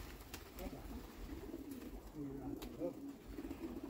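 Domestic pigeons cooing softly in a loft or on a rooftop perch, a few low, throaty coos repeating over a steady outdoor background with faint talk nearby.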